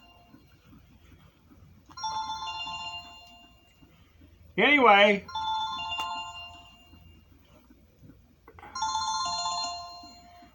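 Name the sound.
phone ringtone ringing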